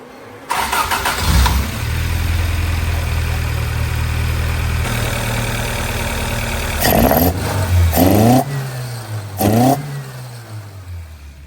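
A Toyota AE86's engine cranks and starts up close, settles into a steady rough idle, then is revved in three sharp blips that rise and fall near the end, loud and alone with no talking.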